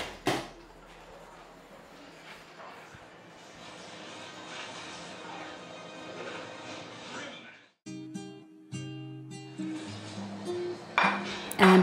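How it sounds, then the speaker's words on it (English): A cooking pot is handled and covered with its lid for low-flame cooking, with close metallic clinks and knocks of lid and utensils, a clattering stretch partway through, and a louder clank at the end. "Cover the pot and keep on very low flame for 10 minutes."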